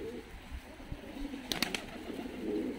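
Fighting pigeons in Tbilisi, Georgia, cooing softly in low, repeated murmurs against quiet outdoor background noise, with a brief burst of wing flutter midway and no talking.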